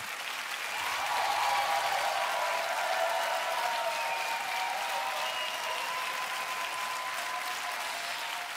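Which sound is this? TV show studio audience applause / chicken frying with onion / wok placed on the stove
TV show studio audience applause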